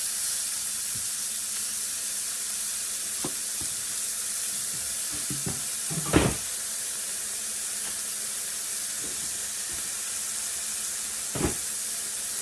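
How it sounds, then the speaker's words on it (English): A steak searing on a hot griddle gives a steady, soft, even sizzle, punctuated by a few brief clanks and taps, one louder knock midway and another near the end. "I'm just going to lay this steak down there and allow it to fry."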